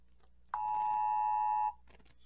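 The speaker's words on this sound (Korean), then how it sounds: "많이 듣던 재난경보 소리를 들을 수가 있을 겁니다" A smartphone emergency disaster alert plays through the phone's speaker as a single loud, steady electronic tone lasting just over a second, then cuts off abruptly in a quiet room.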